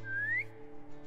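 A short single whistled note from someone, rising smoothly in pitch and then stopping, with a faint hum underneath and a brief knock at the end.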